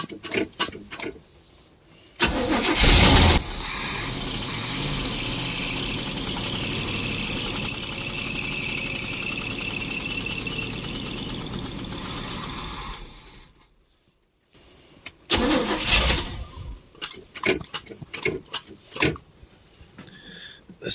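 A 1972 Barth motorhome engine running on its own after 15 years of sitting, a steady close idle with a ticking, clattering texture that cuts out abruptly, followed by scattered bursts and knocks.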